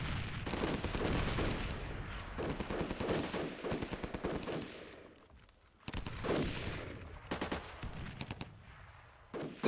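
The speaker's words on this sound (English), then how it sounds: "Here comes the artillery." Artillery fire in the Armored Brigade II war game, with repeated rumbling blasts and rapid crackling gunfire bursts in clustered volleys, a brief lull midway, then more bursts; no voices.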